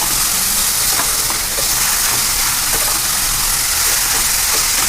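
Grated beetroot, half a kilo, sautéed in ghee for beetroot halwa, giving a steady, loud hiss and sizzle that runs unbroken throughout, with faint scraping of stirring beneath.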